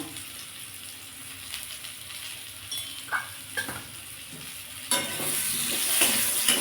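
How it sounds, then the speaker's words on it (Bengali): Mango pieces with chili powder sizzle gently in a pan, with a few spoon clinks and stirring, then the frying swells louder toward the end; close by, no talking. "এটা দিয়ে বন্ধুরা খানিকটা ভেজে নিলাম"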